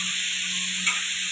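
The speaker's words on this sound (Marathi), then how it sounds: "टमाटर लसूण आणि कांदा हे चांगलं भाजून घेत आहोत" Tomato, garlic and onion masala roasts in a pan, giving a steady, close hiss and sizzle under a constant tonal hum, with one faint brief tick partway through and no speech.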